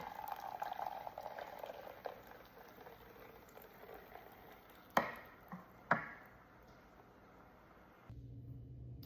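Hibiscus tea being strained, a soft continuous trickle and splash of liquid with a few sharp knocks of a utensil midway, ending abruptly in near quiet.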